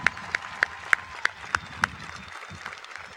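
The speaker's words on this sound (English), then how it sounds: "one more round of applause, please" Commencement ceremony audience applauding, with sharp individual claps standing out over a steady wash of crowd clapping that fades toward the end.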